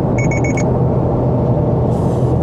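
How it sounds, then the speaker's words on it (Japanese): Four quick high-pitched electronic beeps in a steady rhythm from a Subaru Levorg STI Sport EX driver-monitoring camera warning, sounding over a constant low cabin rumble on a highway, then stop, leaving only road noise. "ピピピとね警告が出ました"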